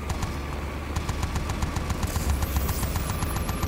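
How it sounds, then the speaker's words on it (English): A heavy-duty minigun in Rage 2 fires a continuous, rapid, loud stream of rounds, a relentless mechanical rattle that holds steady throughout. "Heavy duty minigun, pretty much."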